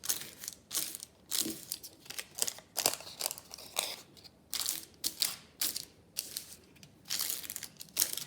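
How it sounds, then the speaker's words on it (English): Paper cake cases being flattened out by hand for an owl craft, giving close, repeated crinkling and crackling bursts in an irregular rhythm with short pauses between them. "So we've got our paper cases, we can flatten them out."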